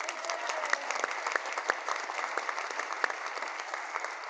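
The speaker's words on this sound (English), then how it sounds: "Let's give Jennifer a round of applause." A crowd at a community celebration applauds a presenter, sustained clapping from many hands with crisp individual claps standing out over a steady, moderately loud wash.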